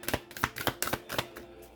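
A deck of cards is shuffled up close, giving a quick series of about seven or eight sharp, papery snaps and riffles at uneven intervals, moderately loud with no voices.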